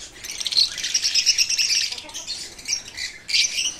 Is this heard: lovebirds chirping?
yes